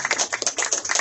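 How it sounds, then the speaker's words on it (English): A round of applause at an evening show hosted by a performer called Dionne, dense rapid hand clapping from a crowd, loud and close, lasting the whole second with no talking. "Everyone give a round of applause."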